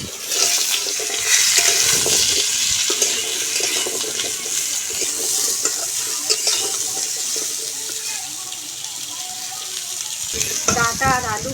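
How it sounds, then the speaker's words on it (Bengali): Potatoes and chopped vegetable stalks fry in a pan in a rustic village kitchen, a steady close sizzle running throughout, broken by stirring scrapes and a brief voice near the end. "দিয়ে দিচ্ছি কেটে রাখা ডাঁটাগুলো আলুর সঙ্গে নেড়ে চেড়ে খুব ভালো করে ভেজে নেব।"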